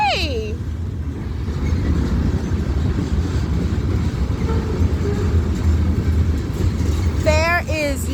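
A BNSF eastbound freight train rolls past with very old hopper cars, a continuous close rumble and clatter of wheels on rail, with a voice talking over it and brief squealing near the end.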